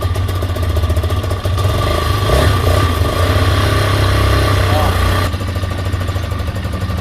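A Vitacci Bashan Raven BSR250 dual-sport motorcycle idles close by with its choke on, a steady low engine rumble with a slight rise as a little throttle is given, while voices talk over it.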